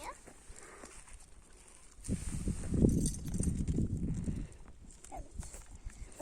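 A somewhat unruly horse's hooves clip-clop on the ground in a short, rough stretch that swells loudest in the middle, then fades back to a quieter outdoor background.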